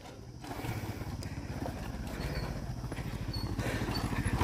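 A Honda Supra motorcycle travels a dirt mountain track, its engine giving a rapid pulsing putter that swells as the bike draws closer.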